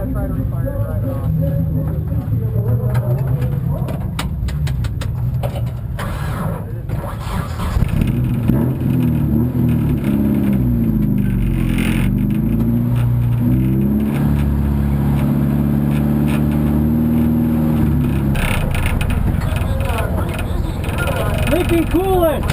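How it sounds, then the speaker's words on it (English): A race car that has been leaking coolant is restarted and runs with a rough, fluctuating engine drone and some revving, while people talk over it throughout. "we're gonna try to refire it and drive it off"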